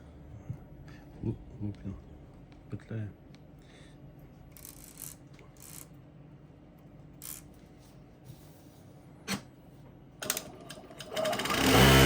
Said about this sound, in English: As you can see, it stitches perfectly.